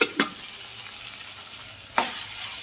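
Mutton curry being sautéed in a pan, a steady faint sizzle with two sharp scrapes of a spoon against the metal, no talk.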